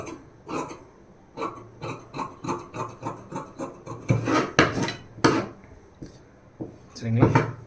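Scissors snip through blouse fabric in a run of short, rhythmic rasping cuts, close and fairly loud, while someone speaks Tamil in between.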